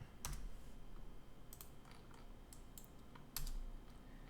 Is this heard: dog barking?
no